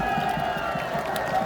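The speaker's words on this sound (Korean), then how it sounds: "시민 여러분, 큰 함성과 박수를 보내주시기 바랍니다." A crowd at an outdoor presidential campaign rally in Bucheon cheers and applauds steadily, a dense wash of voices and clapping sustained throughout at moderate distance.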